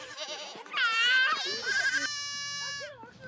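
Young goat kids bleating repeatedly at close range as children herd them out of a pen, the loud wavering cries overlapping one another and rising and falling over a few seconds.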